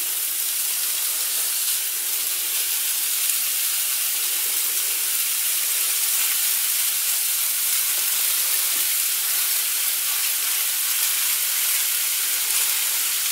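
Meatballs sizzle and fry in a hot pan as part of a spaghetti-and-meatballs meal, giving a steady, dense hiss that holds evenly throughout with no voices.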